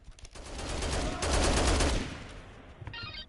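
Gunshots aimed at armor plates in Dead Rising, a dense continuous barrage of rapid fire building to a loud peak and then tapering off, with a faint clinking tail.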